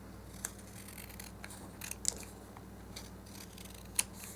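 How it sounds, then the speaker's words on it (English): Scissors trimming purple tissue paper, with a few quiet crisp snips spread over a low background hum. "So let's trim this purple one. I have stuff sticking to my scissors."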